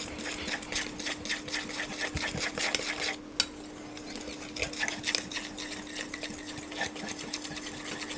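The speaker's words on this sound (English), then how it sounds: "We're going to make sure that the flour and everything is mixed properly together, making sure to incorporate from the sides as well." Flour mixture for pancake batter is whisked in a bowl, producing a fast, steady rhythmic clatter of whisk against the bowl, close and continuous with a brief pause midway.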